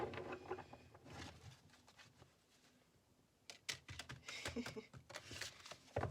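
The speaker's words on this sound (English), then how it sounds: "I'm not the best shuffler." A deck of tarot cards is shuffled by hand in quiet, papery bursts of riffling and tapping, pausing midway before picking up again, with some soft talking.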